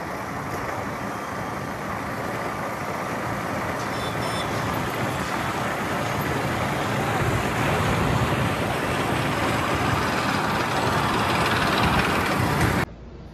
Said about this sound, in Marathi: ट्रॅफिक होतं जाम.